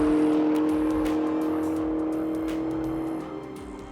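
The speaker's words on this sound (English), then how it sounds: "The unique Camaro sound falls on the shoulders of Jay Pistana." A Chevrolet Camaro muscle car's engine and exhaust hold a loud, steady droning rev that eases down slightly near the end, with no voices.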